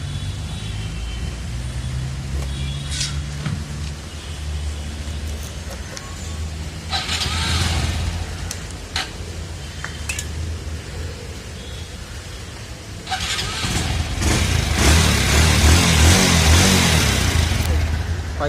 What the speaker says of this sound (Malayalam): ഞാനിപ്പോൾ വണ്ടി ഓൺ ചെയ്യും, എൻ്റെ എളുപ്പത്തിന് ഞാൻ വണ്ടി ഓൺ ചെയ്യാൻ പോവാണ്